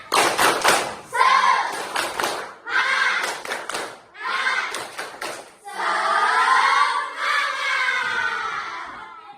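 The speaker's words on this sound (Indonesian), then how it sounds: "Coba tepuk semangat." An elementary class does a rhythmic spirit clap together, with bursts of sharp clapping and thumping in patterned groups, followed by children chanting loudly in unison.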